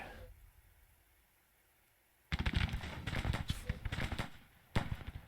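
Artillery fire in Grand Tactician: The Civil War, a Civil War strategy game: after a quiet stretch of low rumble, a loud barrage of booming cannon shots erupts, dense and irregular, with a final sharp blast near the end.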